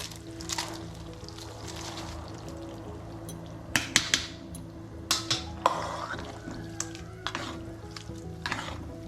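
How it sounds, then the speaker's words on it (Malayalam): Rice ada slides into boiling coconut milk for palada pradhaman, with a soft simmering hiss beneath sharp scraping stirs and clinks of a spoon against the pot, irregular and close. "ഇത് തിളച്ചിട്ടുണ്ട്. ഇനി ഇതിലേക്ക് ഊറ്റി വെച്ച അട ചേർത്ത് കൊടുക്കാം"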